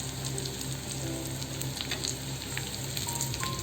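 Colocasia pieces frying in a pan as turmeric goes in, giving a steady, dense hiss of sizzling oil throughout with no talk.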